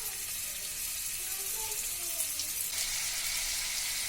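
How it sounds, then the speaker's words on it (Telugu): Marinated chicken pieces fry in a few spoons of oil in a pan, giving a steady broadband sizzle that holds at an even level throughout, close and continuous with no talk. "దీనిలో ముందుగా మ్యారినేట్ చేసుకున్న చికెన్ ముక్కలు వేసి ఫ్రై చేసుకోవాలి"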